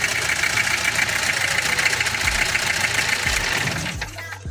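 A car engine idles steadily before an oil change, a loud, even rumbling drone that softens near the end as the engine is switched off.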